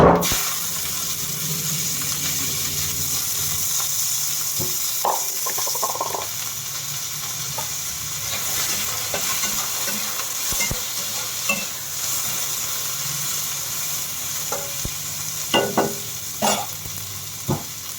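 Onion frying in a pan with dried chilli, panch phoron and green chilli, a steady close sizzle broken by occasional stirring scrapes and clicks, with no talk.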